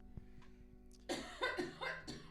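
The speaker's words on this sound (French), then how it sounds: "Attendez, je tousse." A person coughs several times in close succession, loud and near the microphone, after a short stretch of faint background noise.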